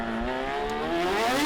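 Team Magic Mazda FD RX-7 drift car with a four-rotor twin-turbo engine during qualifying at Okayama, a loud sustained engine howl climbing in pitch with tire noise underneath, no voices.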